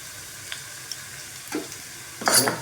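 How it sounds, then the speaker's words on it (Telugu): Carom seeds and dry red chillies frying in hot oil for ajwain rice make a faint, thin sizzle, broken by a soft stirring scrape and a louder crackling burst near the end. "వామ్ అని కొంచెం మంచి ఫ్రై చేద్దాం"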